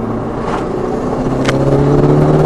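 A Honda Civic Type R FK2 accelerates along a straight road, its engine droning loud and close with pitch climbing steadily as it revs, plus a couple of brief higher bursts.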